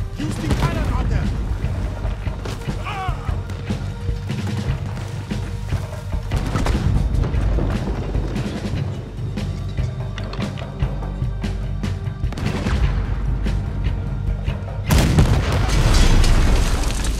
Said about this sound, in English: Use the cannon out there.